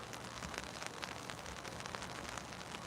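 Steady rain pattering on an umbrella during an outdoor protest at the Washington State Capitol, a dense continuous hiss of close drops with no talking.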